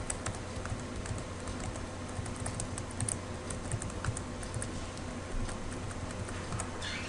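Fingers type data on a computer keyboard in a quiet room, a quick, steady patter of soft key clicks with no talking.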